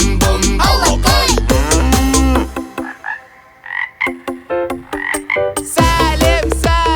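Frog croaks within a children's song: loud, rhythmic repeated croaking calls set among sung music, forming a steady pulsing pattern.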